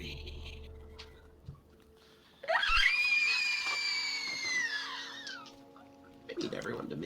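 A banshee's scream performed during a Halloween tabletop role-playing game: one long, loud, wavering shriek rising sharply and holding for about three seconds before trailing off, then quieter room noise and shuffling.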